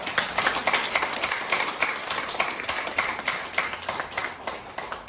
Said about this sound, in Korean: 우리 한번 박수 한번 칩시다.